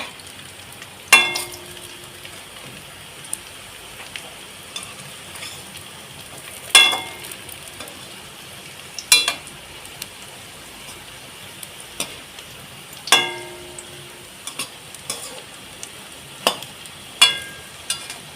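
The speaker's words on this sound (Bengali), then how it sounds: "একটু ধৈর্য ধরে ভেজে নিলেই একদম রেডি হয়ে যাবে" Malabar spinach leaf pakoras deep fry in oil as a faint, quiet hiss broken by occasional sharp crackles and pops spaced a few seconds apart.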